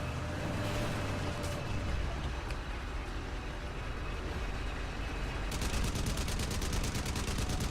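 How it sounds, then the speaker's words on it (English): Gunfire in the video game Crysis on PS3: machine-gun bursts and scattered shots over a constant loud background rumble, ending in a fast, regular burst of fire. "I could have sworn somebody's shooting at me."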